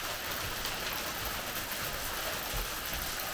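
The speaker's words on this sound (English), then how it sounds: "And now we're getting hail." Hail falling steadily outdoors near a building under repair, a dense, even hiss of many small impacts with no pauses, fairly quiet and with no voices.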